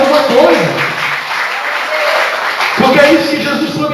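Church congregation applauding together, a steady wash of clapping from the pews with a voice speaking over it at the start and again near the end.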